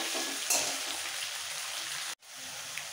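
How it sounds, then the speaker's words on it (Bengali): Whole coriander paste and spices sautéing together in a pan for a rohu fish curry made without onion or garlic: a close, even hiss of frying broken once by a brief gap. "এবার একসাথে একটু কষিয়ে নিতে হবে।"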